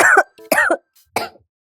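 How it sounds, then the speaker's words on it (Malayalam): Three short, harsh coughs from one nearby person, each burst separated by a brief pause, with a faint throat sound between the first two. "ചുമ, വില്ലൻ ചുമ"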